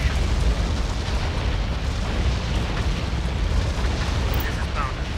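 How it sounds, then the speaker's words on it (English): Continuous rumbling explosions and gunfire from a Tom Clancy's EndWar battle, a dense, loud wash of booms and bursts that never lets up, under radio-style voice chatter from units. "Hostiles in range. Opening fire."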